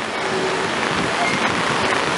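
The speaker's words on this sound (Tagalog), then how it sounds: "Wala ngang baha, pero malakas naman ang ulan." Heavy rain pours steadily during a rainy-season downpour, a dense constant hiss of drops striking surfaces with no break.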